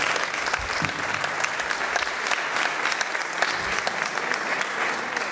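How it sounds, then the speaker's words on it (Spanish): At an awards ceremony, a large audience claps steadily and densely for several seconds, a continuous wash of applause without pause. "Yo os pido un aplauso y José María."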